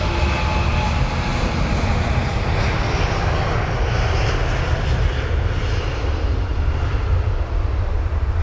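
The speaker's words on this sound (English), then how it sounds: "you've got the British Airways 787 heading to Washington" British Airways Boeing 787 Dreamliner jet near London Heathrow, a loud, continuous roar of jet engines that holds steady throughout without any voices.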